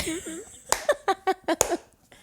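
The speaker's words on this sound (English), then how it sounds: "I was just clapping, babe." Several sharp hand claps, about five in a quick, slightly uneven run, close and fairly loud, following a brief voiced sound at the start, during a couples podcast.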